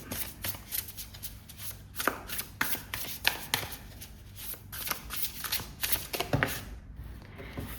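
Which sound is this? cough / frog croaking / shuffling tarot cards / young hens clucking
shuffling tarot cards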